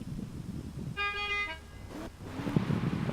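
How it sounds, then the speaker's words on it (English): A single car horn honk of about half a second signals the start of a drift qualifying run, loud and clear, followed by a rising engine and road rumble. "honk when ready"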